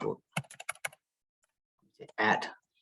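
Brief bursts of clicking keys on a computer keyboard while typing a name into a shared Google Docs document, a quick cluster of taps followed by a pause and a louder final flurry, close and moderately loud.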